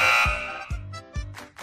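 Loud electronic buzzer on a radio show prize wheel, a bright sustained blare followed by several shorter repeated buzzing pulses, close and clear with no talking.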